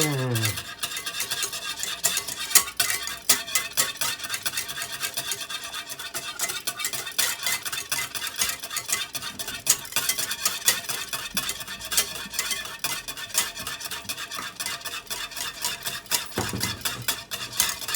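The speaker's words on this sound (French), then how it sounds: "Maintenant, je vais pouvoir incorporer mon beurre fondu progressivement." Whisking melted butter gradually into a warm sauce, a rapid rhythmic clicking of a whisk against a pan, steady and close for the whole stretch.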